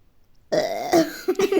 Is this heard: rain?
no